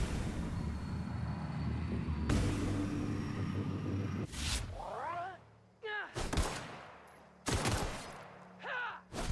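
Video game gunfire in The Outer Worlds: sustained rapid shots with rumbling, then sharp separate blasts with ringing echoes, loud and close.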